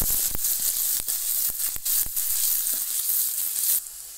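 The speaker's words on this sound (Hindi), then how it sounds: "तो मेथी दाने से हम तड़का मारेंगे।" Fenugreek seeds sizzle in hot oil for tempering kadhi pakoda, a soft continuous frying hiss close up with scattered sharp pops and crackles.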